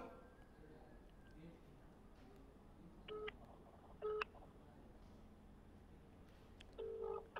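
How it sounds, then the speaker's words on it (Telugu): A few short electronic tones sound one after another, faint against a steady low background hum and murmur. "శ్రీతేజ్కి కాల్ చేస్తున్నాను."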